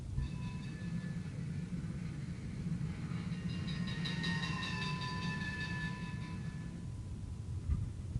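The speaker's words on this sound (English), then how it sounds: "This is not the train making the noise, it's the crossings, right? The crossing gates." Bells at railroad crossing gates ring as a moving train passes, a faint run of repeated metallic dings that grows louder mid-clip and then fades, over the steady low rumble of the train's wheels.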